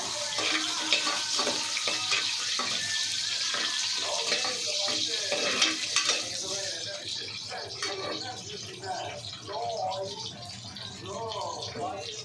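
Grated coconut, curry leaves and a dried red chilli hit hot oil for a mutton kulambu, a steady close sizzle and crackle under a person talking throughout.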